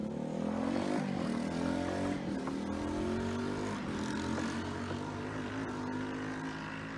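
A kid's motorcycle engine drones steadily up and down a residential neighborhood street, with a sustained buzzing tone whose pitch gently rises and falls as it passes. The engine noise is continuous and carries no talk.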